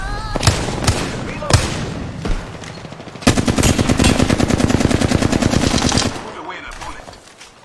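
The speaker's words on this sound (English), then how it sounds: "Enemies are shooting at me." Automatic gunfire in a shooter video game: a few isolated shots, then a long sustained burst of rapid fire that stops abruptly, with a voice speaking briefly in between.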